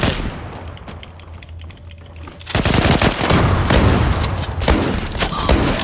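Shotgun fire in the online shooter Zula: quiet game ambience gives way to a loud run of sharp, rapid blasts packed close together, continuing to the end with no talk.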